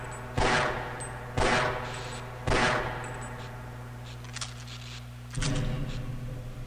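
Gunfire in the game Half-Life: Opposing Force: four loud, separate bursts of weapon fire spaced about a second apart, each with a sharp attack and a brief ringing tail over a steady low hum.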